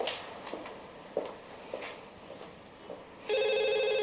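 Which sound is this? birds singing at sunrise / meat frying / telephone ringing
telephone ringing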